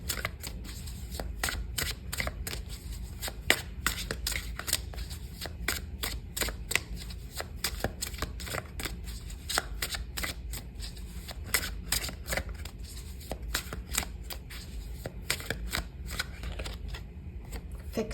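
Goddess Oracle cards are shuffled continuously by hand, giving a dense, rapid stream of crisp riffling clicks and flutters, close and steady throughout with no talking.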